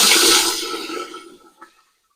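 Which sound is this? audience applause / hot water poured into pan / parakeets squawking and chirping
hot water poured into pan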